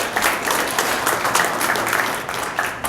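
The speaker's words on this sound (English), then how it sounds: "We need to clap for Leon" Audience at a North St. Paul city partnership kickoff applauds a state representative, with sustained, even clapping from a sizable crowd filling the room at a steady level throughout.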